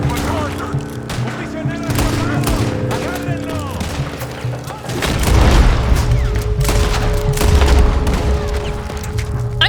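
Rapid gunfire rings out in Red Dead Redemption II, with repeated loud shots cracking in quick succession over game music and a deeper rumbling second half, while a player's voice talks in between.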